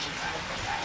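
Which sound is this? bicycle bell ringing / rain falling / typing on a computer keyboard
rain falling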